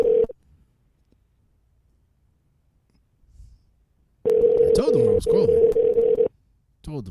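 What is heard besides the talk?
telephone dialing and dial tone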